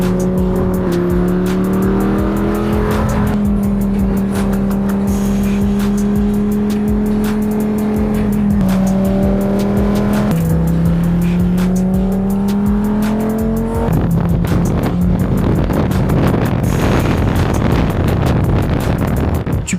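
Lamborghini driving on the road, its engine loud and continuous for about twenty seconds, the pitch climbing and dropping through several gear changes with a rougher, noisier stretch toward the end.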